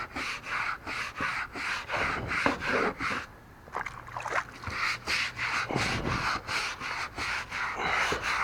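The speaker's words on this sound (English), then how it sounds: "But I'm just going to scrub it in." Brush scrubbing a wood deck coated in bleach and OxiClean detergent, a loud rhythmic series of rough back-and-forth strokes close by, with a brief pause partway through.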